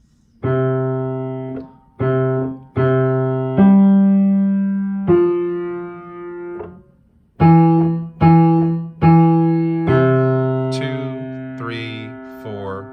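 Piano chords played in a short melodic phrase, loud and sustained with a brief pause midway, several notes struck in steady rhythm.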